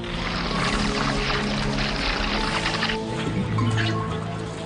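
A surge of rushing water flushed down a tunnel in the Medabots cartoon, a loud, continuous churning roar with splashing texture that swells and shifts for several seconds without any voices.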